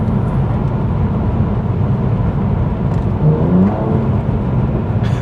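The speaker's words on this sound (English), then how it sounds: "you can just kind of suddenly press the throttle down full and it will just drop the gears instantly and you get that boom, as you heard there" A 400 hp Mercedes-AMG C43 kicks down through its gears under full throttle, producing a loud, steady engine roar heard from inside the car, with a brief swell partway through.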